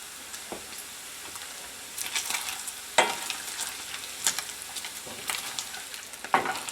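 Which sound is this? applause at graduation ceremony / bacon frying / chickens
bacon frying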